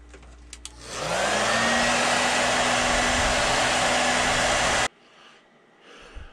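A heat gun blows hot air to heat-set paint on a crankbait. After a few faint clicks it switches on with a rising whine, roars steadily for about four seconds, then cuts off abruptly, leaving quiet handling noises.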